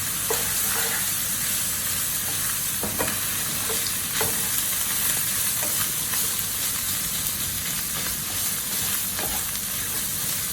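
Seasoned keto dirty rice stirred in a hot pan, a loud, dense steady sizzle and hiss with repeated scraping strokes of the spoon, close up and without talking.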